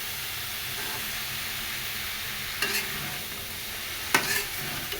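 Papaya bhaji with green chili fries in a pan, producing a steady loud sizzle and hiss, with two sharp clanks of a spatula scraping and stirring, and no speech.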